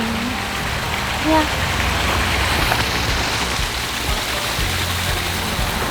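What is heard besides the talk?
water tumbling down a pump-fed garden water feature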